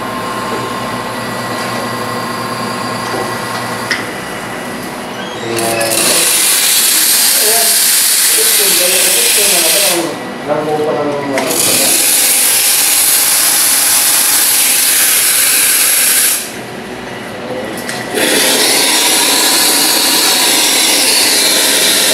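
A Lanna espresso coffee machine under test blasts a loud, close steam hiss in several long bursts separated by short pauses, with gurgling and sputtering between, while voices talk faintly underneath.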